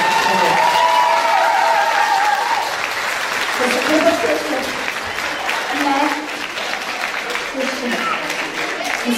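Steady, dense audience applause at an outdoor village fair after an Argentine tango dance, a continuous wash of clapping heard close with voices faintly mixed in.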